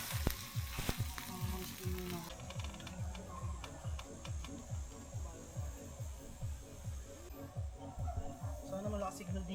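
Food sizzles and crackles in cooking oil at an outdoor motocamping site, with a steady fry running under a rapid, ratchet-like rhythmic clatter throughout.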